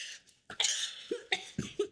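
A person coughing nearby in several harsh, rough bursts that come in quick succession, with no talking over them.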